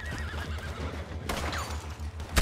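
A horse in the video game Red Dead Redemption 2 whinnies with a wavering high call over a low steady rumble, followed by a few sharp thuds.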